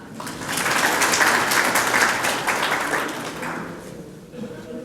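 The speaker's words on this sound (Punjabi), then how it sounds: "ਤੁਸੀਂ ਸਾਰੇ ਆਪਦੇ ਆਪ ਦੇ ਲਈ ਇੱਕ ਜ਼ੋਰਦਾਰ ਤਾੜੀ ਲਾ ਦਿਓ" A large audience of farmers at an agriculture department training event in Bathinda breaks into sustained applause, a dense wash of clapping that swells, holds for a few seconds, then gradually fades.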